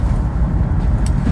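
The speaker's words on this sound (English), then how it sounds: "I just got annoyed with the noise in this car" Steady low rumble of road and engine noise inside a moving car, constant and fairly loud with no speech over it.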